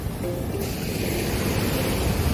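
Sea waves surge and break around a small island off Sri Lanka's blue beach, making a continuous loud roar with some wind buffeting the microphone; no speech.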